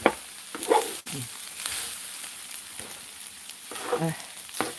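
Butter cheese meat fried rice with onion, corn and carrot sizzles and crackles in a hot pan, with scattered clinks of a utensil stirring and scraping, fairly close.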